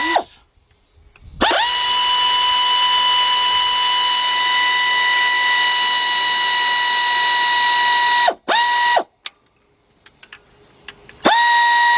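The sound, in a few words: ratchet loosening 12mm bolts, 3/8 drive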